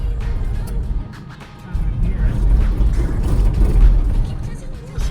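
Low, rough mechanical grinding and rumbling from a 1980 Toyota pickup truck, steady and close, with a heavy churning undertone that swells slightly toward the end.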